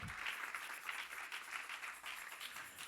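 A church congregation claps for the Lord during a sermon on the passion of Christ, a faint but steady crowd of hands clapping with a gentle rhythmic pulse, unbroken by speech.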